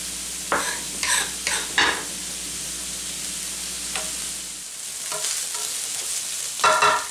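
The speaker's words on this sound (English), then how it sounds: "I'm going to go ahead and add my onions now that the beef and sausage have had a little chance to cook" Chopped onions hit a pan of browning ground beef and sausage for lasagna, sizzling loudly and close, with bursts of scraping and stirring at the start and again near the end, and no voices.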